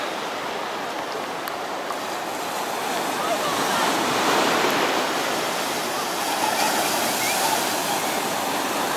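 Sea waves wash onto a beach at Alanya, Turkey, a continuous broadband rush of surf that swells slightly midway, steady and moderately loud.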